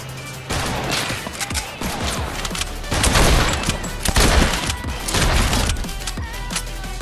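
Dense gunfire fills a Fortnite match, with rapid overlapping bursts and cracking impacts, loud and continuous, mixed with clattering crashes throughout.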